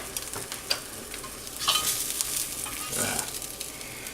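An egg fries in a pan over lowered heat, a soft continuous sizzle with occasional stirring scrapes and small pops, close by and steady, with no voices.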